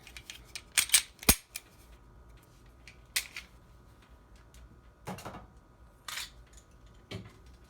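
Two Glock pistols, including a Glock 19 and Gen 3 models, being taken down by hand: sharp metallic clicks and clacks of slides and parts, a dense cluster early, then scattered clunks, close and fairly quiet with no talk.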